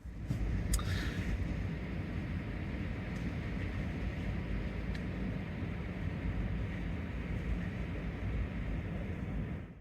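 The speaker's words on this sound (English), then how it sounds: "Yeah, that wind's not happy." Strong wind roaring steadily at a winter campsite on the Pinchot North Loop in 19-degree cold with gusts near 30 mph, a dense, continuous rush of low buffeting noise that stays loud and unbroken throughout.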